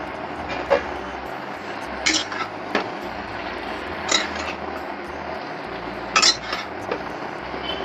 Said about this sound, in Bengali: একটু হালকা করে কষিয়ে নিচ্ছি, যেই সবজিগুলো সব ঢেলে দেবো।